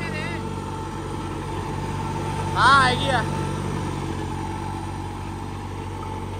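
A New Holland 3630 tractor engine idling steadily with a low constant drone, close by, while people talk briefly over it and a short whining sound rises near the middle.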